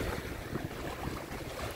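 Ocean waves washing in at Watamu beach in Kenya, a steady broadband wash mixed with wind buffeting the microphone, fairly close and continuous with no talking.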